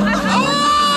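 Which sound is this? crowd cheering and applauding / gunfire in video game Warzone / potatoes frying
crowd cheering and applauding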